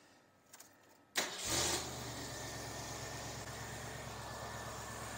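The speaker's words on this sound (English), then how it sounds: "I'm going to start the engine" A 1973 Ford Mustang convertible engine cranks briefly after a quiet moment with a few clicks, catches with a loud roar, then settles into a steady, even idle that runs on close by.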